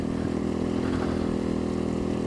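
Motorcycle engine running steadily at close range while riding a road near Sedona, a constant mid-pitched drone with slight throttle variation throughout.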